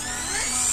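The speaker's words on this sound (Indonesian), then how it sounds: "Pengoperasiannya, bor berputar" A Kairos KA-810-RE electric drill, set to one of its four motor speeds, spins steadily with a bright high-pitched whine that rises slightly, close and continuous with no talking.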